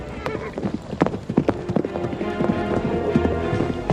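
Horses' hooves clip-clop in quick, uneven clusters, close and fairly loud, several animals moving at once over a continuous background rumble.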